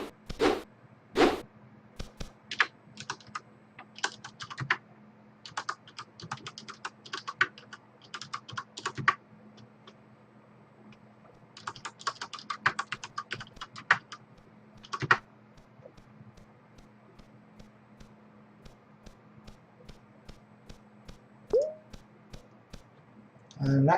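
Computer keyboard typing in bursts of rapid clicks separated by pauses, fairly close and crisp, with a low electrical hum beneath and occasional brief voices.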